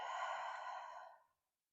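A single long, steady exhale through the mouth during a yoga session, a soft breathy sigh close to the microphone that fades out after about a second, followed by silence.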